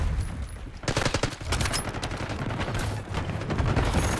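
Black Ops 6 firefight with loud bursts of automatic gunfire starting after a brief lull, followed by overlapping rapid shots and sharp cracks that continue steadily to the end.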